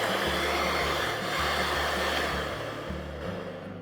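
An electric mixer whirs loudly and steadily while blending a tender coconut ice cream mixture, a constant motor drone with no talking.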